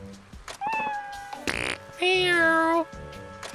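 In Like a Dragon: Ishin!, a cat being scrubbed lets out a plaintive meow, a short buzzing fart, then a long loud wailing meow, close and clear amid light scrubbing sounds.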